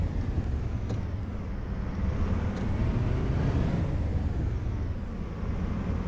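A city bus engine rumbles steadily while the bus drives through a night route in Berlin-Kladow in the OMSI 2 bus simulator, a continuous low drone with faint high hiss and no talk.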